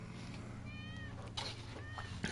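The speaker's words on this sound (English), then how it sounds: "Oh, Wedge's cats." A cat meows a few times, soft and high-pitched, over a faint steady background hum, in the video game Final Fantasy VII Remake.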